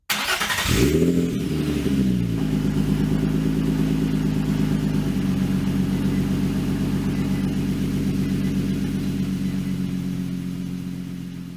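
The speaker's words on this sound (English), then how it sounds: "go ahead and turn on the car and see how it runs" A car engine cranks and catches after its mass airflow sensor is cleaned, then settles into a steady, even idle that continues alone, loud and near.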